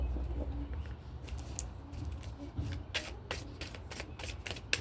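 Cards being shuffled close up and quietly, a run of crisp riffling flutters and soft snaps in irregular bursts against a low background hum.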